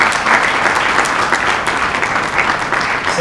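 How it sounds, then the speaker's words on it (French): Sustained applause from a seated crowd at a certificate presentation ceremony in a hotel, many hands clapping in a thick, even wash that neither swells nor fades. "Les applaudissements très bien mérités"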